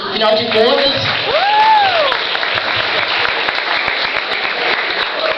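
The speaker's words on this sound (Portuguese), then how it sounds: "eu queria pedir uma salva de palmas a todas as loiras aqui presentes hoje" A crowd at a stand-up comedy show in Turmalina applauds steadily while voices and a few whoops rise over the clapping at the start.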